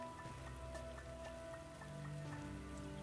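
Steady rain pattering in the video game Starbound, with soft drop taps and a continuous wash running throughout at an even, moderate level, alone.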